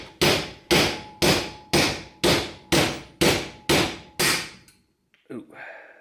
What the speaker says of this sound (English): Really should be using a brass hammer